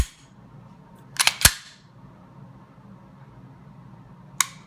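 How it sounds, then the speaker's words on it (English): Sharp mechanical clicks from a Freedomsmith Fat Daddy 2 trigger on a Canik TP9SFL pistol resetting: a quick pair of snaps, then a single click a few seconds later, crisp and close in a quiet room. "Audible, you can definitely hear that click when it resets."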